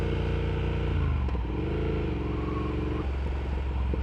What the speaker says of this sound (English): I like the pops too on this. The exhaust sounds really good.